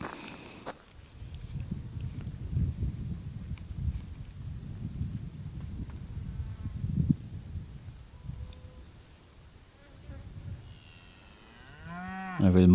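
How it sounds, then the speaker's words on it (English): Cows and two bulls moo as the herd approaches across a forage field, with deep low bellows through the middle and a loud, close moo rising at the end over soft footsteps. "So here the cows and the two bulls come."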